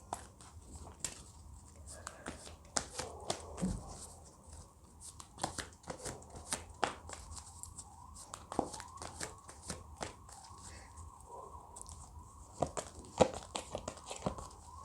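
Oracle cards handled and shuffled by hand during a reading, giving soft papery crinkles and quick flicking riffles in irregular bursts, close and fairly quiet, with faint room noise and a low voice now and then.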